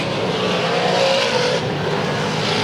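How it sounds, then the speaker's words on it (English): V8 dirt modified race cars roar past at a speedway during an A-main, a loud sustained engine howl that swells and fades slightly as the cars race close by. "Hickson and Corbett side by side in that battle for 4th."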